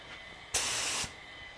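A spray gun lays primer onto a 1965 Thunderbird at low air pressure, giving one steady, close hiss of about half a second that cuts off cleanly against a quiet background.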